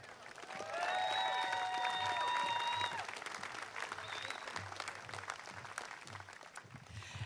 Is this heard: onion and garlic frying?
no